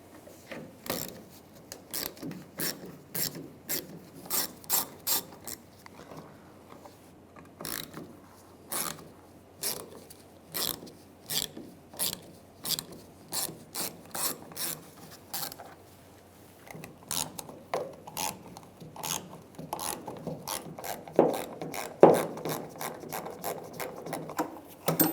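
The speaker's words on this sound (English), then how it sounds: "I'm going to take these 3 bolts out. Use a 7mm socket." Rapid, fairly faint ratchet clicks come in quick bursts as a 7mm socket backs out the fuel level sensor bolts on a 1999-2006 Chevrolet Silverado, with short pauses between bursts and no talk.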